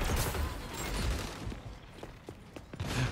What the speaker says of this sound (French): Ah, fusil à pompe